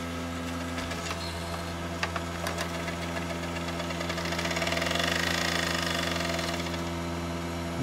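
An old computer booting from its CD-ROM drive makes a steady mechanical hum and rattling whir that sounds unhealthy, continuous and fairly close, with faint clicks and no talking.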